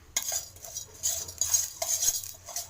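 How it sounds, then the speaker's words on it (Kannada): A spoon stirs cumin seeds as they dry-roast in a pan for tomato rasam, giving close, rhythmic scraping and rattling strokes with a light, dry patter of seeds. "ಇದನ್ನೆಲ್ಲ ಚೆನ್ನಾಗಿ ಹುರ್ಕೋಬೇಕು"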